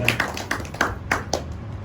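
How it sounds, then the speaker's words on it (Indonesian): A few people clapping for Pak Haji Ipin at a political gathering in Garut, West Java, sparse, irregular hand claps over about two seconds, fairly faint with a low background hum. "Tepuk tangan buat Pak Haji Ipin"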